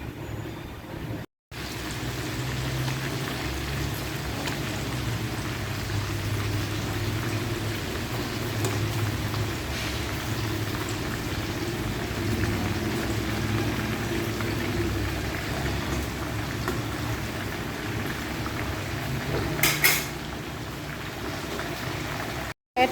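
Shrimp frying in oil, a continuous dense sizzle and crackle lasting the whole stretch, steady and fairly loud, with a brief clatter near the end and no talking; heavy rain is falling outdoors at the time.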